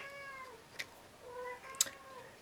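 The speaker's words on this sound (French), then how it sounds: "Et mon chat qui miaule toujours, aujourd'hui c'est son heure." A cat meows twice, moderately close, with a couple of faint clicks in a quiet room.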